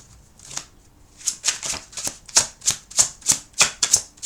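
Slippery foil tarot cards are shuffled in quick riffles, a rapid run of crisp, rhythmic flutters that grows steadier and louder, close and alone.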